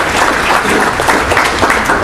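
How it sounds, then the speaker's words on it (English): Steady applause from a live-stream audience, dense and continuous for the whole stretch, with a faint crowd murmur underneath and no distinct voices. "You may clap"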